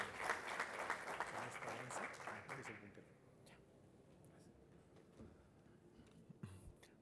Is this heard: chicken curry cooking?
no